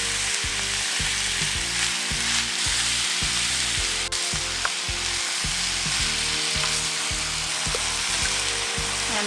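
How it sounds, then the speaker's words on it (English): Ground beef and vegetables fry in olive oil in a pan, a loud, steady sizzle with a rhythmic thumping underneath, heard close up with no voices. "I will add the ground beef and our veggies"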